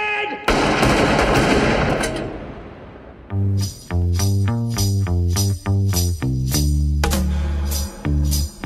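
Gunfire from a film scene: a loud opening blast is followed by a rapid sequence of sharp, ringing shots in quick bursts, some of them metallic and echoing.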